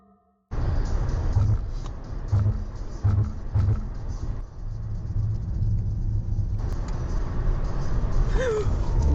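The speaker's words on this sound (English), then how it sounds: "As the couple drive down the road, they see this." A car drives down a road at night, heard from inside as a loud steady engine and tyre rumble that kicks in abruptly, with faint thumps and a brief voice near the end.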